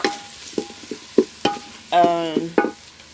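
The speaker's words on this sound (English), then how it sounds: "We want our carrots to cook." Carrots cooking in a pan in a village kitchen: a few sharp close spatula knocks and scrapes over a faint sizzle, plus a brief tonal squeak partway through.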